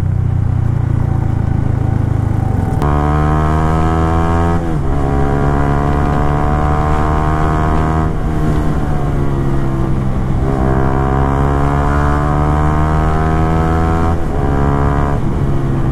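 A loud motorcycle engine drones steadily, its pitch climbing repeatedly as it revs up through the gears, then dropping at each shift.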